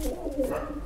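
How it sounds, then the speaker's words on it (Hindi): Crested white Saharanpuri pigeons, both males and females, coo close by in a soft, steady, low throaty murmur that lasts the whole moment. "बहुत ही प्यारी प्यारे कबूतर हैं"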